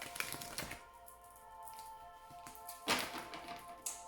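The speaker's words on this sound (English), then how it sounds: "while I shuffle the cards" Oracle cards being shuffled by hand, a run of soft papery taps and riffling clicks with a sharper burst near the end, close and fairly quiet with no talking.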